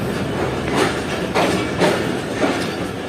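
A night train, the Sukkur Express, running on the rails, with a steady loud rumble and rhythmic wheel clacks recurring about once a second, heard from inside the carriage with no talk.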